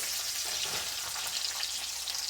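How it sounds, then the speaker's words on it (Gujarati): Raisins and cashews frying in hot oil in a pan, a steady close crackling sizzle throughout with no talk. "નાખીશું સૂકી દ્રાક્ષ, કાજુ, સારી રીતે સરસ"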